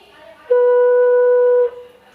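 A bansuri flute plays Shuddh Ma with the first hole half closed. One pure, steady breathy tone sounds clearly for about a second, starting and stopping cleanly, with quiet room sound before and after.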